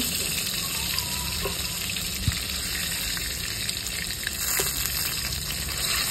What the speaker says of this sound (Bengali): মাছ একটু কড়া করে না ভাজলে খাওয়া যায় না